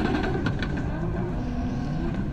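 Drift car launching at a Pure Drift event, a loud sustained engine roar holding a steady high rev, close and continuous with faint crowd or track ambience beneath.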